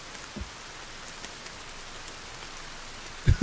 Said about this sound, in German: Es regnet immer mehr.